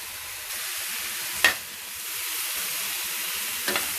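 Food sizzles steadily in a hot frying pan as it is turned over, with a couple of brief scraping clinks from a utensil against the pan over a constant frying hiss.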